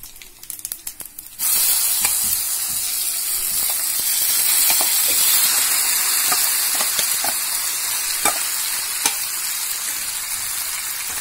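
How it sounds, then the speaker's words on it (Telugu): Cooked rice stirred into a hot pan for carrot curd rice on a medium flame, a steady loud sizzle and hiss with soft scraping stirs throughout, starting after a second of quieter clatter. "రైస్ని యాడ్ చేసుకొని కలిపేసుకోండి. బాగా కలిపేసుకోండి."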